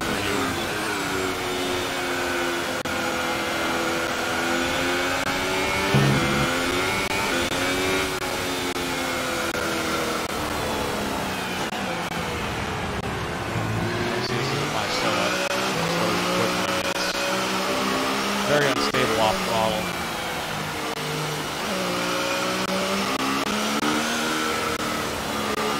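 F1 2018 race car engine in a wet-weather race, a continuous high-pitched whine that rises and falls through gear changes and revs, loud and steady with no talk.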